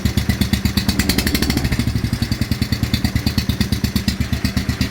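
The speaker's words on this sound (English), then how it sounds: "I love the sound of this engine at idle." A motorcycle engine idles loud and close right after its first start in six or seven months, with a fast, even chugging pulse that holds steady throughout and no other sounds.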